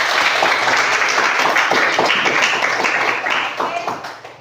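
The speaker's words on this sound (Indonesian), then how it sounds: "Tepuk tangan untuk ingatan." Scattered hand clapping from a classroom or audience fills the stretch at moderate loudness, bursts of claps thinning and fading toward the end.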